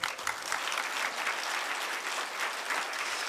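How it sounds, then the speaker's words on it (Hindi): Audience applause at a yoga session, a steady dense patter of many hands clapping together throughout, moderately loud and uninterrupted. "ताली तो बजा दो।"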